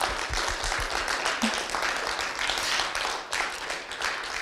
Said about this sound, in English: So give yourself again a huge round of applause